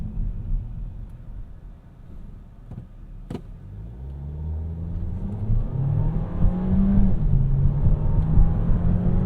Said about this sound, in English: Are you going to launch us?